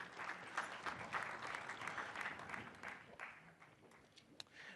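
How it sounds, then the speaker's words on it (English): Dense, continuous applause from a large crowd, steady and fairly loud throughout with a few scattered cheers. "Round of applause one more time, please."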